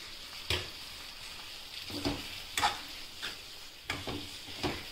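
Eggplant cooking over heat with grated coconut and crushed peanuts, a quiet steady sizzle with soft spatula scrapes and stirs recurring every half second or so, close and faint.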